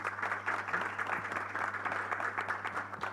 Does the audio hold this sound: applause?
yes